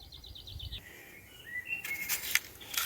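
Birds call in a pine forest picnic spot: a quick run of repeated high chirps opens, followed by thinner whistled notes and sharper tweets, fairly faint and close, with no talking.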